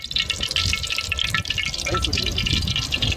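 About 100 grams of pure ghee pours into a pan for a Maharashtrian-style black mutton gravy, a soft, steady liquid trickle with faint drips, fairly quiet and close.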